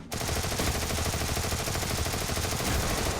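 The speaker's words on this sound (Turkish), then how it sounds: "Yanlış yere sıkıyorum bu arada. Kafasına sıkacaktım." Continuous gunfire in the video game Free Fire, aimed at a mechanical dragon, a dense, unbroken rattle of shots that starts abruptly and stays loud and close throughout, with no talking.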